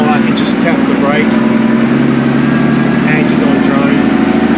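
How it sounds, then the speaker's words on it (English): A Unimog truck's engine drones steadily under exhaust braking while descending a steep slope in 3rd gear, a loud, continuous low rumble with no break throughout. "So I'm just riding the exhaust brake in 3rd gear."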